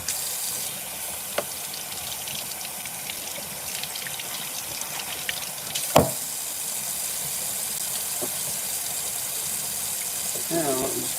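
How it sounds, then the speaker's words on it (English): A tap runs steadily as doll hair is rinsed out in a sink during cleaning of doll heads, with a continuous close water rush broken by occasional knocks and splashes. "Now I'm just going to rinse her hair out."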